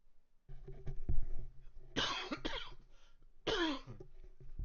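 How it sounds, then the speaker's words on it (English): A man coughs hard several times in close succession, with a couple of harsh, loud bursts and some throat clearing in between. "that's me coughing"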